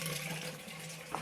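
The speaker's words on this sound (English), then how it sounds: "So right now I'm just letting the water run in" Water running from an open valve into a greenhouse planter, a steady splashing flow with a faint tonal hum, close and alone.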